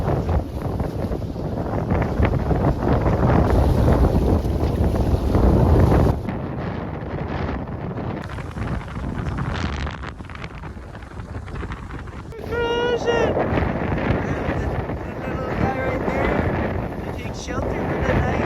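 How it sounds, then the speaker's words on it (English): Wind gusts roar across the microphone aboard a 42-foot sailboat on choppy water, with water rushing beneath, loud at first, then easing and returning; a voice talks briefly partway through. "But we got decent wind. Oh, it's getting all choppy."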